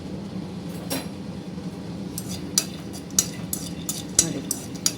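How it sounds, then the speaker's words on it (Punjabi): Raw peanuts dry-roasting in a pan, stirred with scattered scraping clinks and a few sharp utensil knocks over a steady low rumble, fairly quiet and close, no talking. "ਹੁਣ ਆਪਾਂ ਭੁੰਨ ਆ ਆਪਣੀਆਂ ਕੱਚੀਆਂ ਗਿਰੀਆਂ"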